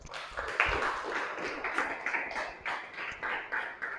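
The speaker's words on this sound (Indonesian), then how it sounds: "kita berikan tepuk tangan untuk kelompok 4" A classroom claps for a presenting group, a brief burst of scattered, fairly faint hand clapping.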